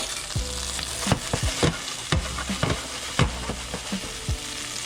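Two tablespoons of garlic fry in a heated pan. A steady sizzle runs under frequent clanks and scrapes of a utensil against the pan, close and clear, with no speech.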